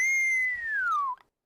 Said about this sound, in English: It sounded like you started to whistle,